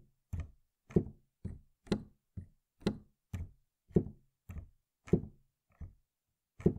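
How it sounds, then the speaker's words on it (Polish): Hammer action of a Studiologic Numa X digital piano knocking as keys are released, a series of about fourteen distinct, close, dull wooden thuds at an uneven rhythm with silence between them. "W setce młotek wyraźnie stuka."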